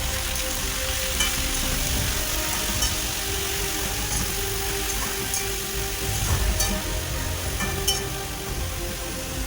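Chopped bottle gourd with tomato and cumin cooking in a pan, a loud continuous sizzle and bubbling close by, with occasional scraping stirs and faint clinks, no voices.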